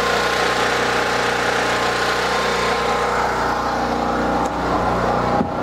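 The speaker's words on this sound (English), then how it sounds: "That noise is my new generator." A new portable generator running at camp, a loud, steady, close engine drone with a constant mechanical hum, holding even throughout apart from a slight dip and a small knock near the end, no talk.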